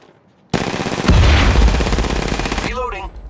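Bursts of gunfire from a sniper rifle and pistol in the video game Apex Legends erupt suddenly at close range and ring loudly for about two seconds before cutting off, followed by a brief in-game voice line.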